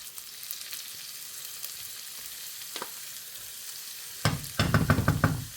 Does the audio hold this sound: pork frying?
yes